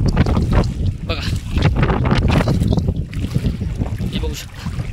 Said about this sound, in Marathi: लाटा येतात, बघू शकता कसं पाणी आहे बघा।